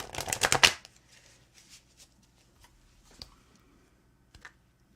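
Close riffling burst of round Tarot of the Cloisters cards lasting under a second, followed by sparse quiet clicks and taps of cards being handled.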